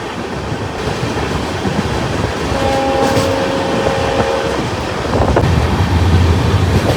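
A passenger train on the Mysuru to Shirdi route rolls along at speed, a continuous loud rumble with wind buffeting the microphone, brief tonal squeals in the middle and the low roar deepening toward the end.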